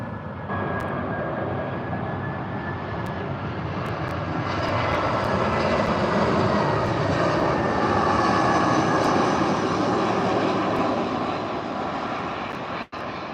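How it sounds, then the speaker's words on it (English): EasyJet Airbus A320 arriving from Ibiza and landing at Gatwick, a broad steady engine roar that swells louder toward the middle and stays close and sustained, with a faint whine early on and no voices. "And here we can hear the 320 from Ibiza."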